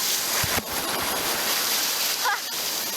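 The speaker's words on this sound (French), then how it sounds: "pour vous donner une petite idée des vagues dans le Pacifique" Pacific Ocean waves break on a Costa Rica beach in a continuous, close surf roar with a steady wash of water and no clear pauses between surges.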